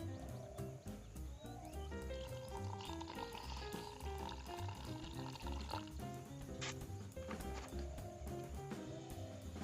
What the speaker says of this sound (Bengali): এবারে আমরা অল্প অল্প করে জল দিয়ে ব্যাটারটা বানিয়ে নেব।